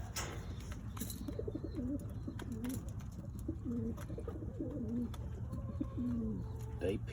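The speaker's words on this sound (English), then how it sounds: "Doves." Several doves coo in repeated low, soft phrases over a steady low hum, fairly close, with brief pauses between calls.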